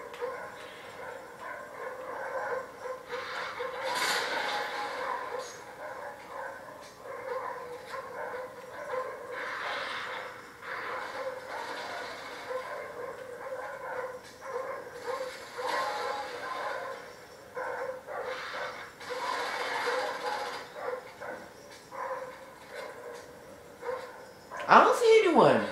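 Hostile dogs barking in Call of Duty: Black Ops multiplayer, with yaps and barks scattered among gunfire and game noise, mostly under a steady voice talking throughout.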